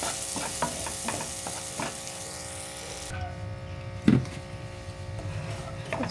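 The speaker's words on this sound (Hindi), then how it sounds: "बारीक मिडियम सायज कट केलेलो ऑनियन पियाव तोय मातशें ब्रावन जावपाचो फ्राय करपाचो" Finely chopped medium-cut onion fries in a pan until light brown, giving a continuous close sizzle broken by scraping stirs, with one sharper clank partway through.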